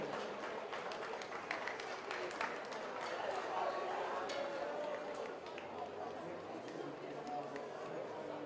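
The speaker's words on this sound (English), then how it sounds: "Big round of applause for our merch officials." Applause for the match officials at an outdoor football grand final, a faint, steady wash of scattered clapping from a distant crowd with murmuring chatter mixed in throughout.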